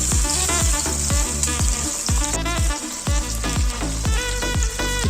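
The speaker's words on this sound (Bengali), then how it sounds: "মাছগুলো খুব ভালোভাবে ভেজে নিয়েছি লাল লাল করে।" Fish frying in hot oil, a continuous bright sizzle running under loud rhythmic background music with a steady thumping beat.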